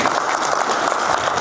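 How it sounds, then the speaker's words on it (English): Loud, dense audience applause for a coach at a coaches clinic and networking brunch, a steady wash of clapping filling the whole brief moment. "please give a round of applause to Coach."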